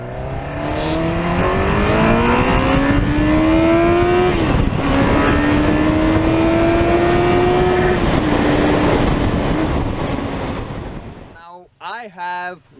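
A Kawasaki ZX 14R superbike with a 1400 cc engine roars at high revs, a loud sustained engine drone rising and falling in pitch as it accelerates, then cuts out near the end.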